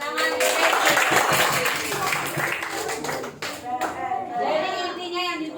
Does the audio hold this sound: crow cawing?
no